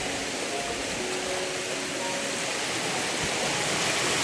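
A village river flowing right behind a house after early rains, heard as a steady, close rush of water that stays even and unbroken throughout.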